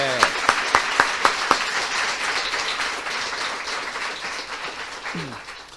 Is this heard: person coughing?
no